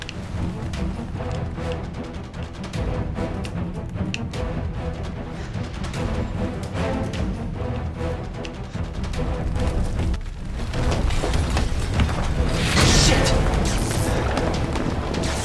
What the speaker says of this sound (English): Let's give these zombies some rockets.